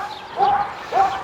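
During stay-command training, a dog lets out two short, high, whiny yelps close by, each rising and then falling in pitch, separated by a brief pause.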